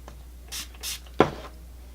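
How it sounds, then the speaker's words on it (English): Two short hissing bursts of a makeup setting spray bottle a moment apart, followed by a soft thud, in an otherwise quiet room. "I like to spray it on just the end of a Real Technique sponge."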